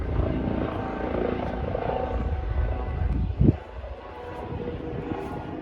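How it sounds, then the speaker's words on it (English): A helicopter passes overhead outdoors in a neighborhood, its rumbling, thumping drone steady and fairly loud with one brief louder burst partway through, and no speech. "That's a helicopter."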